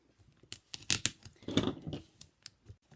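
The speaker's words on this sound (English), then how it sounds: "Might need my scissors." Scissors snipping and cutting open a Paper Pumpkin craft kit package, a few quick close snips mixed with crinkling and tearing of packaging, fairly quiet and with no talking.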